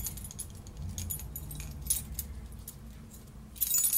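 A puppy's collar tag jangles in light metallic bursts, louder near the end, over a steady low background hum.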